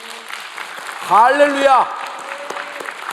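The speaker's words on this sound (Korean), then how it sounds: "우리 하나님께 영광의 박수 한번 합니다" A church congregation bursts into applause during a worship service, a short burst of clapping rising and fading while a voice calls out over it.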